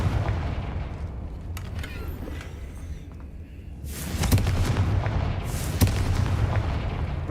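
A Confringo explosion spell cast in a video game, heard as a loud burst that comes up around the midpoint and sustains a rumbling, crackling blast. A second sharp impact follows near the end, all without voices.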